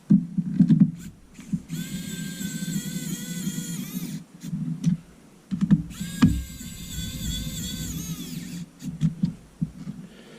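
A rechargeable precision electric screwdriver from a 28-in-1 kit drives a screw down tight, its small motor whining in bursts that rise and fall in pitch, with soft clicks and handling knocks between the runs.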